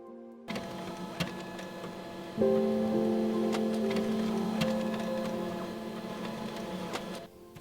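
A printer runs while printing flower embroidery patterns, with a mechanical start-up whir, then a sustained motor drone and steady hum punctuated by occasional clicks and ticks before it stops.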